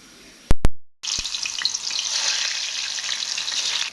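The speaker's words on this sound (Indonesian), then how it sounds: "Ini udah mendidih bumbu pecel ya" Bumbu pecel sauce boils in a pot on the stove. Two sharp clicks come first, then a loud, steady bubbling hiss continues without a break.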